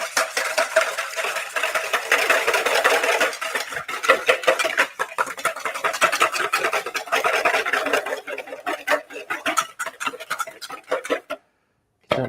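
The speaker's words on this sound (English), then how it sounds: "I'm going to whisk this up just to get it nice and" A whisk clatters rapidly against a bowl while milk is beaten in a kitchen, a fast, steady rhythmic ticking that runs continuously, then stops abruptly near the end.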